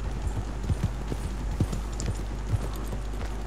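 Horse hooves clip-clop at an unhurried walking pace in the video game Red Dead Redemption 2, a regular series of muffled thuds over a low steady rumble, fairly close.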